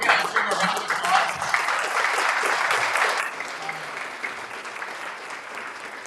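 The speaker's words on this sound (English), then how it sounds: "let's bring a round of applause" An audience applauds the speakers at a live event with dense, steady clapping that stays loud for about three seconds, then thins and fades while faint voices carry beneath it.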